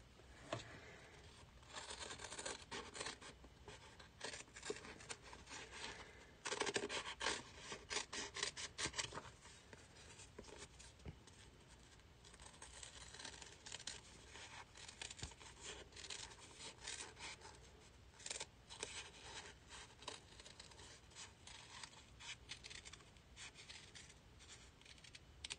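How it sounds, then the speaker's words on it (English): Large scissors snip through fabric scraps close to the microphone, making a long run of quiet, irregular rasping cuts with brief pauses and no talking. "I'm going to start with my large scissors and then work in with some smaller detailing scissors."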